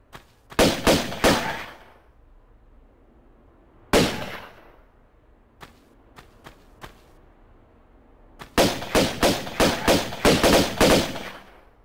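Pistol shots from Lara's pistols in Tomb Raider 1 Remastered, Egypt level, fire in rapid bursts of several loud cracks, then a single shot, a few faint pops, and another long rapid volley.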